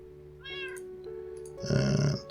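A cat in modded Minecraft meows a few times, short clear calls with a louder, longer final meow, over a faint steady background hum with no talk.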